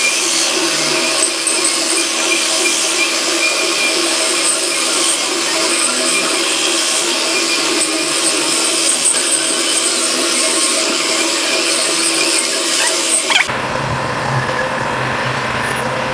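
A loud, continuous machining grind as a lathe drills into a stainless steel tube, steady for over ten seconds, then it cuts off abruptly to a quieter hum.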